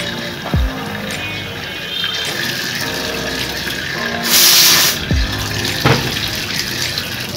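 Tap water runs steadily into a nearly empty Vim dish liquid container, a continuous close splashing rush with a brief louder gush midway and a few knocks of the container.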